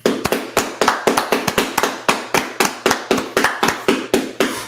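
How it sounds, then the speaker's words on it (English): A crowd claps in unison at an outdoor street gathering in Washington DC, making steady, loud, rhythmic claps at about four per second that continue without pause, with no talk over them. "All right, let's clap it up."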